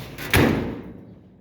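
A heavy door on a 1926 Chrysler DD shuts with a single solid thud close by, its low boom fading over about a second.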